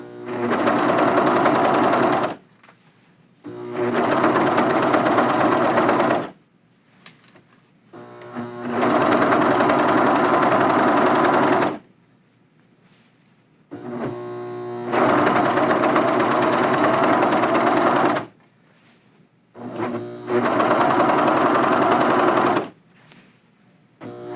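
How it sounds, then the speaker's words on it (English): A serger stitches and trims fabric edges, serging over a row of zigzag stitching. Five loud, steady bursts of rapid motor whirring are separated by short pauses of near silence. "So my serging will actually encompass or go over, enclose that second row of zigzag stitching that I did."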